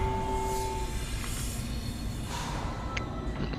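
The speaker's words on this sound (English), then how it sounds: "We're on a choo-choo train!" A train moving in the Dead Space video game, a steady rumbling hiss of rail travel with low mechanical drone throughout and a faint tone early on, no voices.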